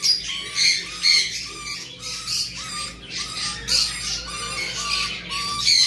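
Caged pet birds in a small, crowded cage squawk repeatedly in a steady run of sharp, fairly close calls, with a few higher chirps mixed in.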